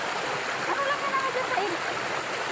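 Steady rushing water flows continuously throughout, a broad even wash of stream noise with faint voices murmuring underneath.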